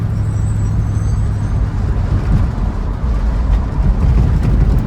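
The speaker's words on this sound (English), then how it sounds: "See how it goes over the train tracks." A 1970 Plymouth Cuda, long stored, rolling steadily over train tracks, with a loud continuous engine and road rumble from inside the car and a few faint knocks and rattles as it crosses.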